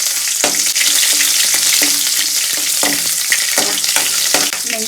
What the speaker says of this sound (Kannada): ಅದಕ್ಕೆ ಫಸ್ಟಿಗೆ ಹಾಕ್ಕೊಂಡು ಅದು ಸ್ವಲ್ಪ ಖಾರ ಹೋಗೋವರೆಗೂ ಫ್ರೈ ಮಾಡ್ತೀನಿ